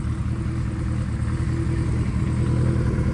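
A 1976 Kawasaki KZ900 motorcycle engine running, loud and close, a steady rough low rumble with a fast mechanical pulse and slight rise in level toward the end, no voices.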